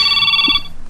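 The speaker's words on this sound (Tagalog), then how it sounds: "Agriring man ti cellphone niyo," A cellphone ringtone sounds in an Ilocano drama scene, a bright electronic tone held for about half a second before cutting off, loud and close with no talk over it.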